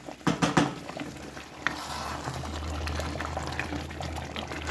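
Chicken dum biryani bubbles in a pot as a ladle is slipped down the side and stirred gently, a few soft knocks at first followed by a steady low simmering rumble.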